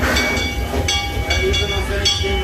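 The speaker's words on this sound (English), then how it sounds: "here comes the train at the Texas Depot" An old steam locomotive pulls into the Texas Depot at Six Flags Over Texas amusement park, its steady mechanical rumble, hiss and clanking rolling on under crowd noise and nearby talk.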